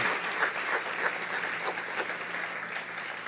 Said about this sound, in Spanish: desen un fuerte aplauso a ustedes